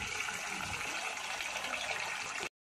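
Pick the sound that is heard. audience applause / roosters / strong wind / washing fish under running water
washing fish under running water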